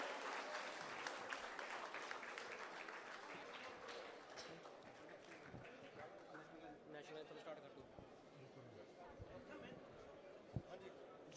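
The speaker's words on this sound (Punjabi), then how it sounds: "ਜ਼ੋਰਦਾਰ ਤਾਲੀਆਂ ਦੇ ਨਾਲ ਸਵਾਗਤ ਕੀਤਾ ਜਾਵੇ ਜੀ" Audience applause welcoming Governor Satpal Malik at an award ceremony honouring the farmers' protest and its martyrs, sustained dense clapping from a large crowd throughout, with a loud single clap near the end.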